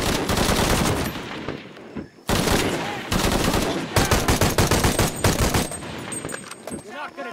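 Rapid gunfire from the video game Shadow of the Tomb Raider, loud bursts of automatic fire and single shots crowding the whole stretch with brief gaps, a whooshing effect near the end.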